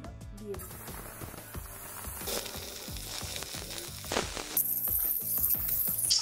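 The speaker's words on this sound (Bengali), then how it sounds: "তারপরে আমরা একে একে মাছগুলোকে ভাজার জন্য দিয়ে দিব।" Mrigal fish pieces sizzle one by one in hot oil over lowered heat, a steady crackling fry that builds slightly louder toward the end, with a rhythmic background layered underneath.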